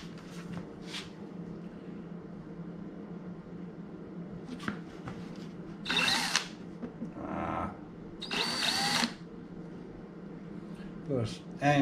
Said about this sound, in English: Change up the drill bit.